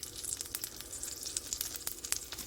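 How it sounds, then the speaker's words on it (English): A grilled cheese sandwich fries in a pan with garlic, giving a steady, faint crackling sizzle with small spits and pops throughout and no talking. "I don't know if you guys can hear that sizzle, but oh, it sounds good"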